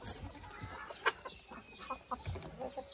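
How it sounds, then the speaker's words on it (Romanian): Chickens on a rabbit-breeding farm cluck softly with a few short squawks, scattered irregularly over quiet farmyard background noise. "Te prezentăm și găinile."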